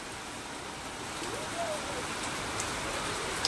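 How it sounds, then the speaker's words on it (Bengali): Steady rain falls with a soft continuous hiss and occasional louder drips nearby; a faint voice briefly rises under it. "বৃষ্টি হচ্ছে তো"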